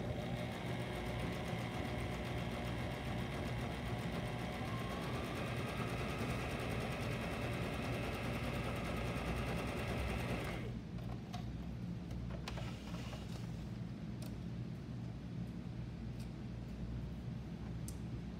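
A sewing machine stitches a seam on boys' pajamas, a steady close mechanical whir running continuously, then cutting off about halfway through, leaving a few faint clicks and quiet room tone.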